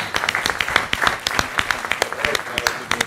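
Applause from an audience at a county candidates' forum greets a county commission candidate coming up; steady clapping with sharp individual claps, close and fairly loud, with some voices mixed in.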